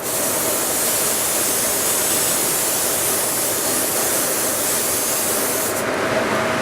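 A loud, steady blast of compressed air hisses continuously at close range, sprayed at an HVAC coil during duct cleaning, a broad rushing spray that cuts off abruptly near the end.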